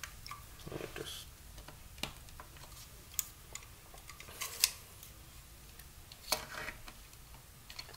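A new blade is slid into a craft knife, giving faint metallic clicks and scrapes at close range over a quiet room hiss.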